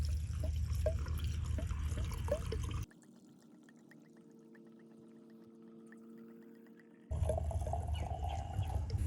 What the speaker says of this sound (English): ever so carefully fill this filter with fuel and go slow